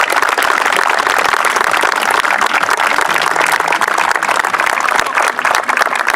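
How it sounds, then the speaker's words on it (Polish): A large crowd applauds steadily and loudly at the opening of a memorial football tournament for Wojciech Kajpust, a dense wash of clapping that runs unbroken throughout. "Duże brawa jeszcze raz. Duże brawa."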